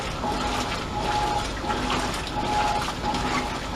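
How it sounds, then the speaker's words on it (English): Modern Roper washing machine agitating a very small load, giving a continuous sloshing, churning water sound with a faint repeating mechanical hum, close and steady throughout with no talk. "It's agitating a little bit, but that's a really, really, really small load."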